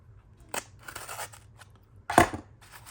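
Hot Wheels blister packaging being pried and torn open by hand, two sharp crinkly plastic crackles with faint rustling between, close by and without talking.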